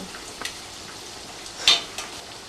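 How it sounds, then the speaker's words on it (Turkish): Soft, steady sizzling of eggplant frying in oil, with a few light crackles and one brief sharper pop; no speech. "Patlıcanlarımızı kızartıp servis tabağına alacağız."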